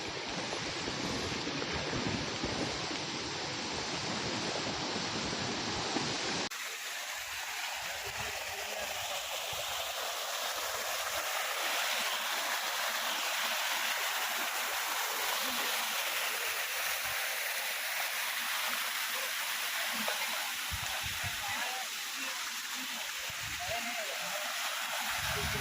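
Water pours at Tada Waterfalls (Ubbalamadugu falls) as a loud, continuous broadband rush that stays close and steady for the whole stretch, with no talking over it.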